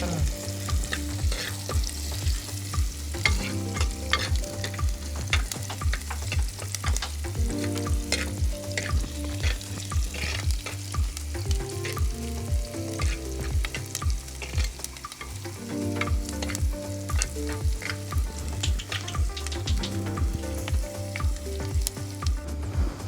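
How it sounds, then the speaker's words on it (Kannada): Onion fries in a pan for a Coorg mushroom curry, a continuous close sizzle broken by repeated rhythmic scrapes and stirs of a spatula, with no voices. "ಅರ್ಧ ಇಲ್ಲಿ ಫ್ರೈ ಮಾಡ್ಕೊತಾ ಇದ್ದೀವಿ. ಇದು ಬ್ರೌನ್ ಬರುವವರೆಗೆ"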